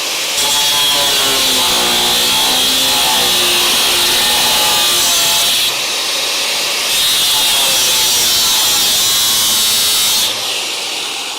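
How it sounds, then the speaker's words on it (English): A power tool grinding and cutting through steel car frame rail on a Crew Cab Charger, loud and continuous with a shrill whine that dips twice as the blade eases off, no talk. "Now we know we got to good metal because this is taking a second to cut through"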